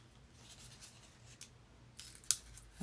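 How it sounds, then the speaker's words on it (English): Scissors snip through a cardboard toilet paper tube in a few quiet, scratchy cuts, with one sharper snip standing out near the end, close and faint against a soft background. "Then you need to cut"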